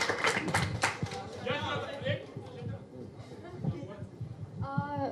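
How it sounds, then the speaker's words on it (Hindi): An audience claps at a book launch for an author's novel Half Girlfriend, with scattered, uneven claps and crowd chatter mixed with voices talking. "चलो इस पे तालियां।"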